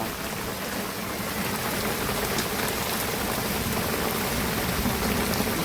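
Heavy monsoon rain pours down steadily around a thatched hut, a dense, even hiss of drops drumming on surfaces with no break across the whole stretch.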